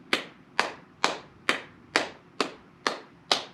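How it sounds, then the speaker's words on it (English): Hands clap out a steady medium beat during a children's ukulele lesson at a public library, eight sharp, evenly spaced claps close by, each with a short ringing tail, with no talking. "See if you guys can clap along with me."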